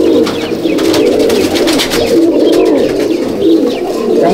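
Pigeons in a Madrasi pigeon loft in Halisahar coo continuously, a close, loud, overlapping chorus of low throaty calls with faint higher chirps and rustles, and no talking.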